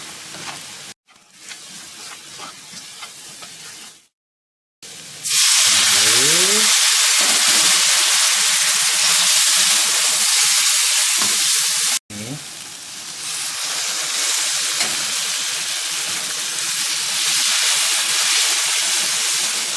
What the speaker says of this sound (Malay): kita akan masak rempah ni sampai dia betul-betul masak lah, minyak dah naik